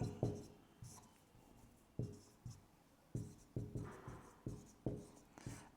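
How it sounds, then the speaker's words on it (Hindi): A math formula is written out by hand, likely pen or chalk on a board, as a series of quick scratching strokes in an uneven rhythm, close and quiet. "द्विघात बहुपद के शून्यक दिए हों तब क्या करेंगे, सूत्र इस प्रकार लिखेंगे।"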